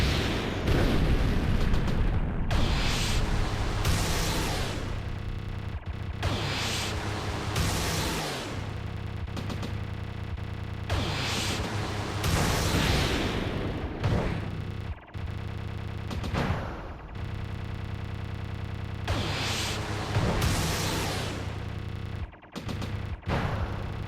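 Enemy Vulcan turrets firing in the shooter game Warning Forever, heard as dense, loud bursts of booming gunfire and explosions in repeated waves separated by short gaps, with no speech.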